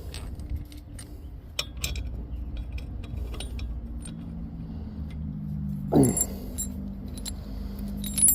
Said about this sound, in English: Oh, I need a washer, so I'll take one of these washers.